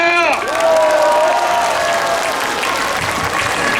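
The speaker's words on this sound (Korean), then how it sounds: "열강을 해주신 유기준 의원님께 다시 한번 큰 박수 부탁드립니다" Applause from a crowd at a Busan political rally, a steady wash of clapping with some cheering that starts abruptly and holds loud throughout, while a sustained tone glides down over the top early on.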